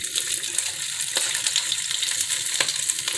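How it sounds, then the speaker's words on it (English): Cabbage stir-frying in a hot pan, with a steady broadband sizzle running throughout and a few brief clinks or stirring knocks, fairly close and with no talking. "And it's starting to sizzle a little bit."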